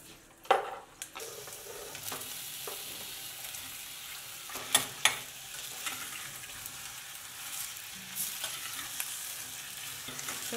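Apple pieces sizzle steadily in melted butter in a pan, with a continuous frying hiss broken by several sharp clinks and scrapes of a utensil stirring against the pan.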